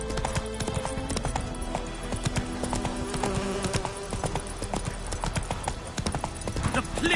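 Roach the horse gallops in The Witcher 3: Wild Hunt on PS5, with fast, continuous clip-clop hoofbeats and game ambience throughout, while voices are heard alongside.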